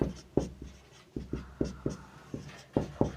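Chalk or marker strokes on a board during a science lesson on metals, close and fairly quiet, coming as a series of distinct rhythmic taps and scrapes with no voice over them.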